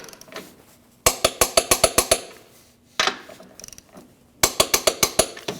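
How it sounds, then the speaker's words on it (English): Ratchet torque wrench tightening 15mm bolts on a Jeep Cherokee front bumper impact absorber, close and crisp: three bursts of rapid clicking, about six to eight clicks each, separated by brief quieter gaps, no voices. "Now you want to torque your 8 15mm bolts to 122 foot-pounds."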